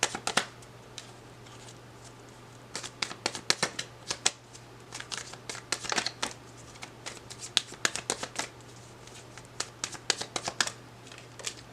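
Tarot cards are shuffled by hand at a table in repeated crisp riffling bursts with brief pauses, close and clear, with no talk over them.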